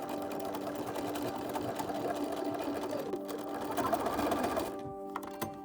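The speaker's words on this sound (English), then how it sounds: "and then after that sew together the shoulder seam right here, matching notches." A sewing machine runs steadily, stitching the shoulder seams of a gothic ballgown's main fabric layer, a continuous close mechanical whir that stops near the end, with no talk over it.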